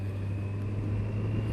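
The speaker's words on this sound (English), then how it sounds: "It sounds lovely, this bike, with a standard exhaust on it too." A Kawasaki Z1000SX motorcycle on its standard exhaust gives a low, steady, fairly faint engine drone while riding, with a constant deep hum and wind noise and no talk.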